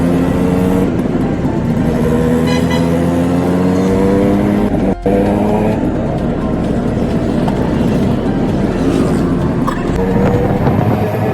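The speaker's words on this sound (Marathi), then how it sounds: "फायनली रिक्षामध्ये चाललो आहे बसायला." An auto rickshaw engine drones loudly and steadily while riding through Kolhapur traffic, its pitch rising and falling with acceleration, a brief dip midway and constant road rumble underneath.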